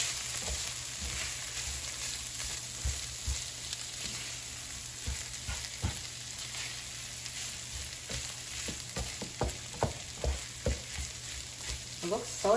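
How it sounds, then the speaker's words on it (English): Sausage and shredded cheddar cheese are stirred together in a hot pan with the heat just turned off, giving a steady soft sizzle with a spoon scraping and clacking close by at an irregular pace, louder toward the end. "let's just mix it with the cheese"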